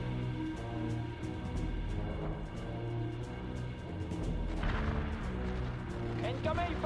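Artillery and gunfire in a World in Conflict battle, with dense continuous booms and shots under game music and radio-style voice callouts throughout.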